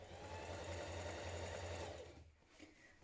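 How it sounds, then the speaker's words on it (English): Close, steady whir of a sewing machine running seams on a pair of trousers for about two seconds, then stopping and leaving faint quiet handling sounds. "you're going to stitch around 3 sides"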